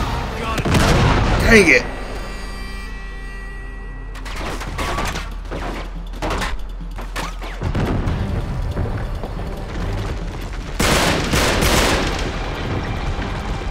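Loud, repeated shotgun blasts from enemies in the action game Uncharted 3, with heavy booming reports in several clusters over a noisy firefight, and a player speaking briefly between the shots.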